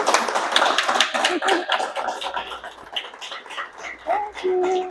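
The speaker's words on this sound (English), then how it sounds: "A round of applause for Anna." Applause from an audience at a parent-teacher group meeting, a dense patter of many hands clapping at fairly close range for several seconds, with a few brief voices rising near the end.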